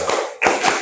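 A classroom of students clapping in a counted rhythm, a few sharp claps close together with a short pause between groups, loud and near.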